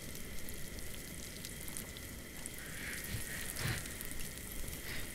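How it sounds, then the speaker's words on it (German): Meat frying in a pot gives a steady, dense sizzle and crackle that runs unbroken at an even level, with no voices over it. "ich sollte vorher den Topf ausmachen. Bevor das ganze Fleisch kaputt geht."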